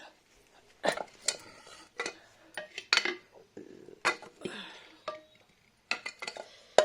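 Pots and utensils clatter in bursts, with scrapes and metallic knocks while a spice tempering is added to rasam boiling in a pot; uneven clanks separated by brief quiet gaps, fairly close.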